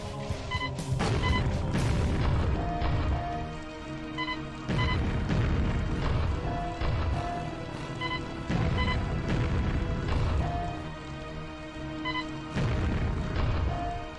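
Repeated proximity-mine grenade explosions from the proximity gun in the Quake remaster game, loud booming blasts landing roughly every second or two over a dense, continuous wash of game noise and music, with no talking.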